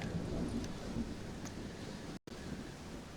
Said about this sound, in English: Well, it's just a storm, John.